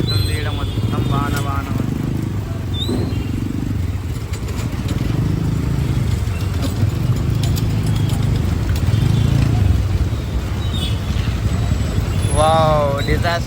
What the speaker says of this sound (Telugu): మొత్తం ట్రాఫిక్ జామ్ అవుతుంది ఇక్కడ.